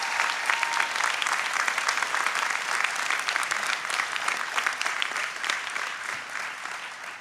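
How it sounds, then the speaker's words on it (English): An audience applauds a pipe band and honor guard at a fire academy graduation ceremony, dense sustained clapping from a large crowd that fades slightly toward the end. "give a round of applause for our pipe band and honor guard for helping us out tonight"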